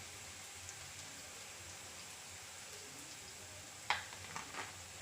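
Chopped onions fry in ghee in a pan, giving a soft, steady sizzle throughout, with a few brief scraping clinks toward the end.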